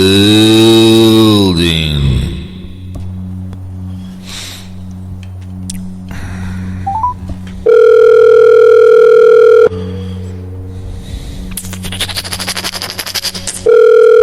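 Outgoing phone call tones: a long steady ringback tone sounding in repeated bursts, with electronic tones and clicks in between, fairly loud and without talk.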